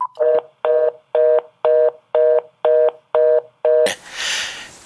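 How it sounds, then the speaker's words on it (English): Landline phone left off the hook after a call ends, giving a loud, close series of eight evenly spaced electronic beeps, followed by a breathy hiss. "the landline phones will give off that beeping signal, that idle signal to indicate that the call had ended"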